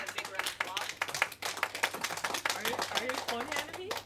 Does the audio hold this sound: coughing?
no